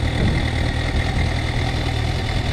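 A 2011 Suzuki GSX650F motorcycle with its stock exhaust sits idling nearby, a steady, fairly tame low engine rumble that holds even throughout with no revving.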